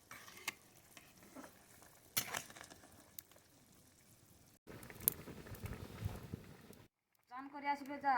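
Fish frying in a pan for fish curry with yellow cauliflower, a crackling sizzle and stirring that is intermittent, then louder in a dense burst near the end, with muffled talk in places.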